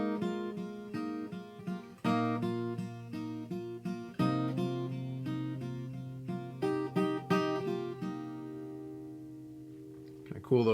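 Fingerpicked acoustic guitar plays a simple repeating riff copied from the piano part of a worship song: clear plucked notes ring out in a steady pattern, then sustain and fade, with no talking.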